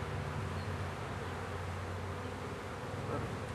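Dense, steady droning buzz of many honeybees at close range while a package of bees is installed into a hive with light top bars, continuous for the whole stretch with no talking.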